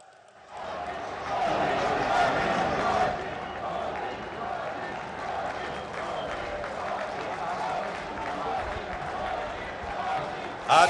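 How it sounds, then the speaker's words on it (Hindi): Large crowd applauding and cheering at an outdoor rally in Bhopal for the Prime Minister, a loud sustained roar of clapping that swells early and holds steady, with a voice speaking over it. "आपकी तालियों की आवाज में कोई कमी नहीं होनी चाहिए।"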